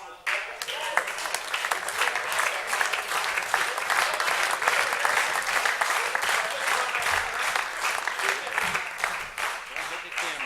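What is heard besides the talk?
audience applause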